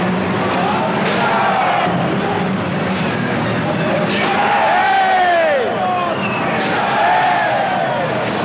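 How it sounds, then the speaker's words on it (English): A large crowd roars and cheers wildly, with shouts and whoops rising over a dense, continuous wall of noise that stays loud throughout. "crowd goes wild."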